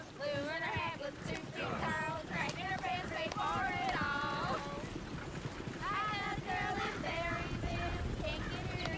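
Horse hooves clip-clop steadily in Red Dead Redemption 2, a continuous plodding rhythm running under a man's singing and background chatter throughout.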